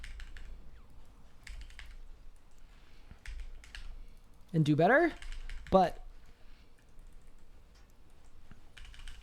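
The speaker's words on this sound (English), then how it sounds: "why I don't edit out my keyboard sounds" Computer keyboard typing during a livestream, a steady run of light clicks and taps close to the mic, with someone talking over part of it.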